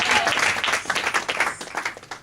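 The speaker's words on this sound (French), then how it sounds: "nous acclamons pour l'encourager" Church congregation applauding to encourage a woman stepping up to give her testimony, a dense run of clapping that stays fairly loud throughout and thins slightly toward the end.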